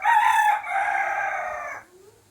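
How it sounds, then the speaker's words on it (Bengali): A rooster at a village home lets out one loud, close crow, drawn out and falling away at the end, with faint background noise and no talk. "আমার বাড়ি মুরগি আছে, মোরগ ডাকাডাকি করছে"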